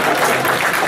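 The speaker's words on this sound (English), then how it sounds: "See how everybody else was clapping for you?" Steady applause from an audience at a live poetry performance, dense and continuous clapping filling the short moment after a Sudanese attendee is called out.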